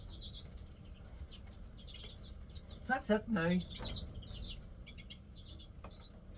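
Lesser and mealy redpolls and greenfinches twitter and chirp intermittently in an outdoor aviary, with someone speaking briefly midway over the bird calls.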